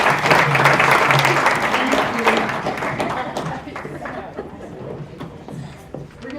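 Audience applause, loud and steady at first, then gradually thinning out as the clapping fades over several seconds.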